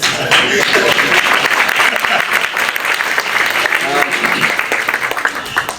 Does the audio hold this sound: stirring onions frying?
no